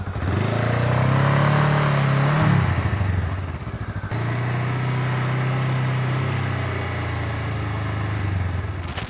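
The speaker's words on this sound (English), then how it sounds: "now that we've reviewed the bike, we're gonna go take it for a spin through the neighborhood" Honda Rebel 500 motorcycle riding through a neighborhood, a steady loud engine drone with a rev and shift around the middle, then continuing at an even cruise, close and continuous throughout.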